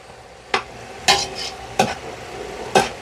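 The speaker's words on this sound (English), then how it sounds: "we're still mixing our meat together" Ground meat for a Bolognese ragù being stirred and broken up in a hot pan, with a steady close sizzle and four sharp spatula scrapes against the pan at irregular intervals.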